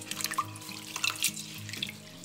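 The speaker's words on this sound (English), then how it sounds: "just wash it really good to make sure we're getting off all the sand and whatever else that may be in here" Tap water running into a sink as sea moss is rinsed of sand by hand, a soft steady stream with splashing and light clatter from handling, fairly quiet and with no talk.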